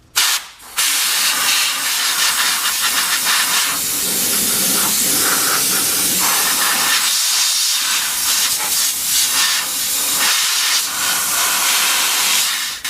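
Compressed air blasts in a sustained, loud hissing rush over the wet area around a Ford brake caliper and its freshly installed hose, with a few brief pauses and shifts in intensity.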